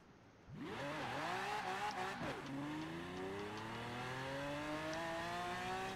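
Mosler race car in the video game Forza Horizon 4, engine revving hard from a standing start through rising gear changes, then holding a steady loud drone with faint tire noise, no talking.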